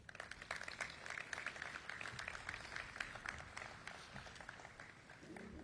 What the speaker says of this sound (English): That's worth an applause right there.